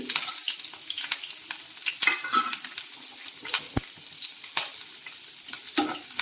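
Carrot, cabbage, onion, green chilli and curry leaves stir-frying in hot oil for egg fried rice, a steady close sizzle broken by scraping stirs and occasional clinks, with no talking.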